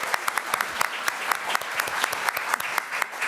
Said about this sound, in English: Let's give our caseworkers a round of applause.